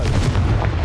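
A Confringo blasting spell going off in Hogwarts Legacy, a loud, dense, booming burst that rumbles throughout the short moment without a voice.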